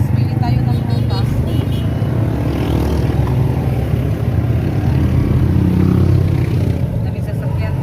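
Busy street traffic of many cars and motorcycles passing close by as a continuous loud rumble of engines, with people talking over it.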